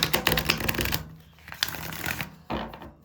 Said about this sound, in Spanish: vamos a barajar nuestras cartas